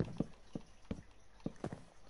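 Horse hooves clip-clop in the Minecraft video game, with about seven quiet, hollow knocks falling in uneven pairs at a walking pace and no talk over them.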